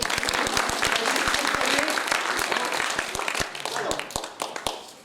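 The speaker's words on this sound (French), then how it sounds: "On l'applaudit bien fort" An audience claps loudly at a theatre show, a dense burst of many hands with sharp individual claps standing out, strongest at first and gradually thinning toward the end.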